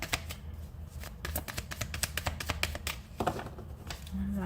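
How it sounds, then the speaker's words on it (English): A deck of tarot cards is shuffled by hand in a dense run of quick riffling flutters and soft taps, close and fairly quiet, with no voice. "Last shuffle."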